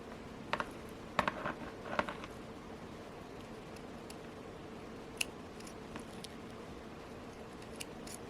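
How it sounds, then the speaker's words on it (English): Jewelry thread being snipped with scissors above a crimp while making a handmade beaded piece: a few faint, close snips and clicks in the first two seconds, then near-silence with small isolated ticks. "knots above my crimp, and I will"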